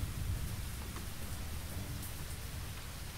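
Steady rain pours over a tiny, deserted station platform in the video game Lost Horizon, a dense continuous wash with low thunder-like rumbling underneath and no voices.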